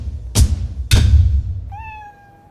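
Cat meowing inside a cat cafe: after two heavy thumps, one drawn-out, clear meow rings out near and fairly loud, with no talk.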